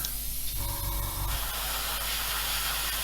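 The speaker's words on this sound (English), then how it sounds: "So blow some through the brush." Airbrush blowing a steady spray of thinned Vallejo Interior Green model paint onto an Airfix 1/24 F6F-5 Hellcat model, a continuous close hiss of air and paint with a brief burst shift early on, no talk.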